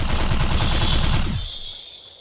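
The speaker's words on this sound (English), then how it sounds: "I do enjoy this light machine gun." Sustained burst of light machine gun fire in the video game Defiance 2050, loud rapid rattling shots for over a second, then a fading echo tail.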